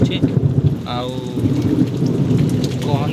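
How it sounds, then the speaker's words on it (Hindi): Thunderstorm with heavy rain and lightning in Jharsuguda district, Odisha: loud, steady downpour with low rolling thunder beneath it and faint, brief voices in the background. "पूरा मध्यम धरण वर्षा है घड़घड़ी सहित लाइटिंग"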